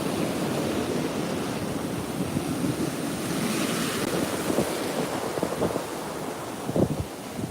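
Ocean surf washing onto a beach, a steady broadband roar of breaking waves with gusty wind buffeting the microphone, a few louder wave crashes near the end, no voices.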